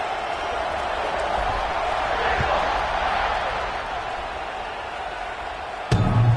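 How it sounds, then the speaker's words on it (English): A large stadium crowd at a college football game between Auburn and Georgia keeps up a steady, dense roar from start to finish, with a sharp thump near the end. "this crowd is buzzing after that last score"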